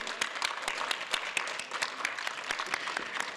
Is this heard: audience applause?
yes